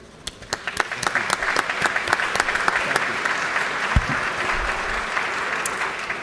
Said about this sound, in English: Will you, at this time, at least give a round of applause for our sponsors?